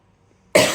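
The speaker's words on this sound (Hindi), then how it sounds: "थोड़ा सा तबीयत ठीक नहीं है मेरी को, खांसी हो रही है" One sudden, loud, harsh cough bursts out after a stretch of near silence and carries on briefly.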